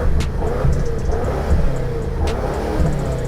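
A deep turbocharged 4.4-litre V8 car engine rumbles and revs in short surges, loud and close, with a low, throaty tone.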